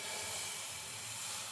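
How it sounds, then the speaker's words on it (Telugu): A ladle of batter hits a hot pan and sizzles with a steady, close, even hiss that lasts throughout. "నేను ఇక్కడ ఒక గరిటె పిండిని అయితే వేస్తున్నా"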